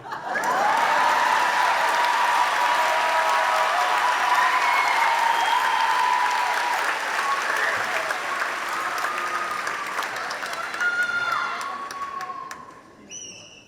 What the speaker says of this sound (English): Now, will everybody please